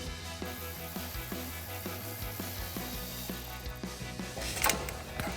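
A socket wrench clicks as it works a 12mm brake line bracket bolt on a truck's front suspension, a quiet regular ratcheting tick repeating about every third of a second over low mechanical hum.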